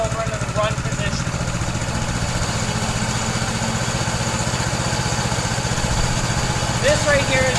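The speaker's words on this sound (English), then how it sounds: "Pull the start of your machine and slowly push the choke over into the run position." Blue Bird sod cutter small engine running steadily at idle, a close, even putter with a continuous low rhythmic throb, and someone talking briefly over it.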